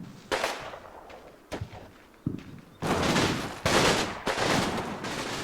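Artillery barrage and gunfire in the video game Combat Mission, sharp separate blasts at first, then a dense run of heavy booming impacts and rumbling explosions, loud and close.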